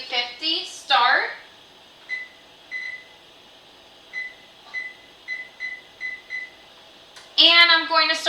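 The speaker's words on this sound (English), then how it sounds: "I just want to first turn on my oven. So I'm going to do bake 350, start." An oven control panel chirps with a run of short, evenly spaced beeps while it is set to bake at 350, and someone talks at the start and again at the end.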